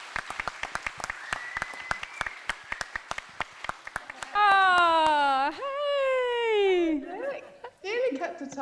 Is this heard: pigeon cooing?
no